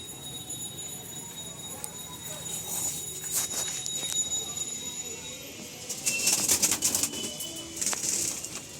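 A group of five or six pigeons taking off and flying around a home loft, with soft scattered wing flaps that swell into louder bursts of flapping near the end, against a quiet background.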